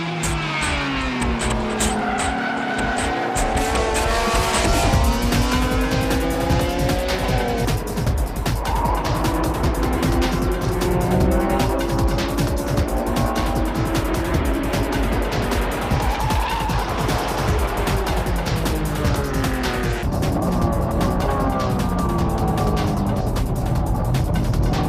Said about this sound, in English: For the Champions Battle, the NSXR challenged racing cars using slicks.